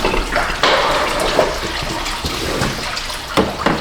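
Coolant drains from a lowered radiator hose on a Buick LeSabre, a loud continuous gush of liquid pouring close by, with splashy surges and gurgles and no talking.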